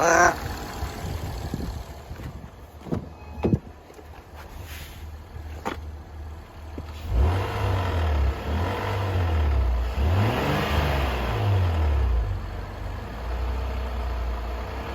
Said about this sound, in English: I'll rev it up for a second here, you'll hear it.